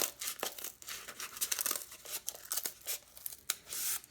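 Cardboard is cut out by hand for a cardboard speaker, with quiet, irregular scraping and tearing bursts close to the microphone.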